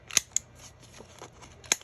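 Scissors snip white paper while rounding off a corner in junk journal crafting, giving three crisp, close cuts: two quick snips near the start and one more after a pause, with faint handling rustle between.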